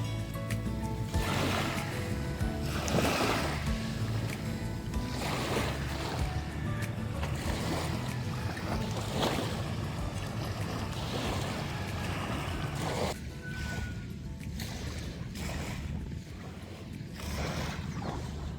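Water washes and laps in the shallows at a beach, a continuous broadband wash with repeated surges of splashing and wind-like hiss, steady and moderately near, with no voices.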